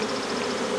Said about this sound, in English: You just dump them in the box, just like so. Bag of bees.